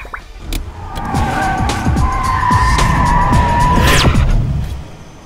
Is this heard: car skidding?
yes